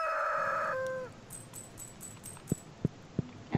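A rooster crow from a Stardew Valley farm animal, with harmonic calls in the opening second, then a few short sharp clucks or taps spaced apart, with no talking.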